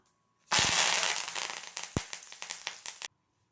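Curry leaves dropped into hot oil while making sago mixture, giving a sudden loud burst of dense crackling and spitting that gradually thins into scattered pops over about two and a half seconds, with no talking.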